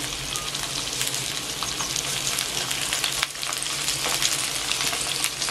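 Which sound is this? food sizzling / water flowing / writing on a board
food sizzling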